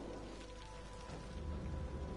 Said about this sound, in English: Yeah, it's raining, it's raining. We might even have a thunderstorm.